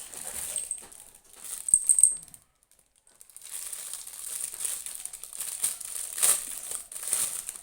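Crinkly wrapping crumples and rustles as a gift package is opened, with a brief bright jingle of a small trinket around the second mark, then soft ongoing paper handling close by.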